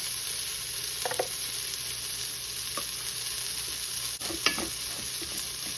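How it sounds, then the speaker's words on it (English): Rice sizzles in a pot with onion and tomato for Mexican-style rice, a steady close frying hiss broken by a few scraping stirs of a utensil against the pot, with no voices. "I'm going to add the 1/4 onion, 1/4 tomato in this mixture."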